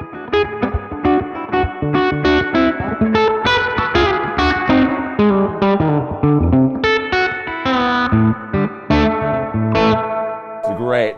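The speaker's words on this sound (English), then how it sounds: "I always put it head to head with a real spring reverb on any amplifier" Electric guitar chords and single notes ring out through a drippy, splashy spring reverb from a Digitech Polara reverb pedal, each note trailing off in a washy echo.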